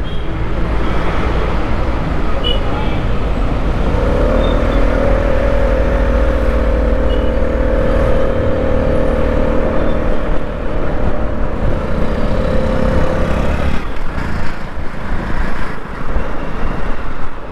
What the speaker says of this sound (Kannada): ಈ ಗಾಡಿದು ಎಕ್ಸಾಸ್ಟ್ ಕೇಳೋಕ್ಕೆ ಸಖತ್ತಾಗಿದೆ.